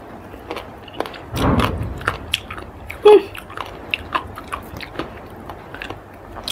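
Soy-sauce pickled clams are chewed close up: irregular wet crunches and bites, with one louder crunch near the middle and quieter squishy chewing in between.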